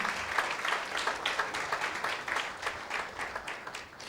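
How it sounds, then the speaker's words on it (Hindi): Church congregation applauding together in a fairly soft, steady burst of many hands clapping at a moderate distance, lasting a few seconds. "क्यों न एक ताली बजाकर प्रभु का धन्यवाद करें"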